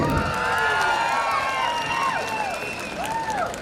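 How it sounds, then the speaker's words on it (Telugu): A crowd claps loudly and continuously, with cheering and excited shouts mixed in. "మీరందరూ మీ టీచర్స్ కి రెస్పెక్ట్ చేస్తే ఒకసారి గట్టిగా చప్పట్లు కొట్టాలి"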